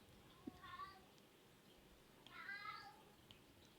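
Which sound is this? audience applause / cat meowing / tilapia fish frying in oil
cat meowing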